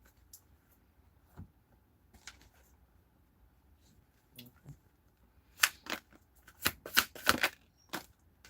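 A deck of tarot cards is shuffled in sparse soft riffles and taps, then a louder burst of quick snapping shuffles clusters near the end, close and otherwise quiet.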